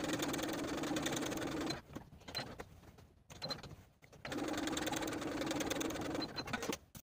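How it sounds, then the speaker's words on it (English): A sewing machine runs in two steady bursts, stitching a sleeve slit from the bottom edge to a point, with a pause and some handling between runs. "We're going to take it to the sewing machine and sew from the bottom edge to the top of the point"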